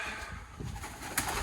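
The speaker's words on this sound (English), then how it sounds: "Loads of pigeons." Pigeons coo in a derelict old pig farm at RAF Methwold. Soft, low cooing carries through a hollow room under steady background hiss, with a brief flutter near the end.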